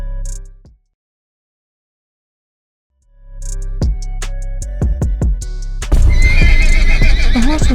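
A scared, anxious horse being shod. A short sound is cut off by a few seconds of silence, then hooves clip-clop close by and the horse lets out a loud, shaky whinny at the end.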